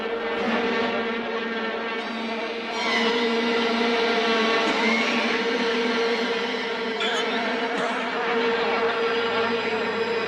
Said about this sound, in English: Out of nowhere, flies swarmed.